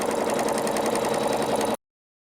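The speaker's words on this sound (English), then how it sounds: "The next step is going to add the satin stitching around the body." A sewing machine runs a satin stitch around the body of a flannel baby blanket, a loud, steady, rapid mechanical whir and chatter for under two seconds, then stopping abruptly into silence.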